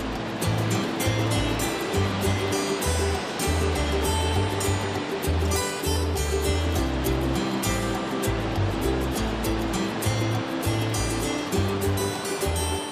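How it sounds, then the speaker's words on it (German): Famous waterfalls on a route from Maine to North Dakota rush with a broad, continuous roar of water, heavy and even throughout, heard alone with no voices. "Und natürlich mit den berühmten Wasserfällen, die rund ums Jahr die Reisenden anlocken."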